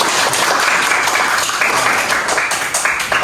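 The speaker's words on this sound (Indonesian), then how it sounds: "tepuk tangan untuk kita semua" A group claps together in a steady, dense burst of applause after a counting game, the hand claps close and continuous for the whole stretch with no talk over them.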